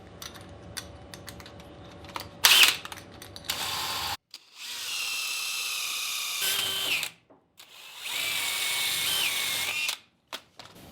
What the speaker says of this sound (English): grab my 1/2-inch spade bit